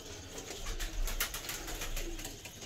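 Pigeon coos come through faintly among other birds at a pigeon club on a hot day, a soft steady murmur of calls over low background noise with no one talking.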